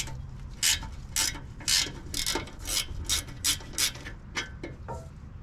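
A ratchet works loose the sway bar end link on a Land Cruiser 100 (LX470): about a dozen quick bursts of ratcheting clicks in a steady rhythm, close and clear with no talk.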